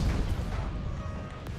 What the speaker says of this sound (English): Looks like we got them to self-detonate one of their nukes in their own base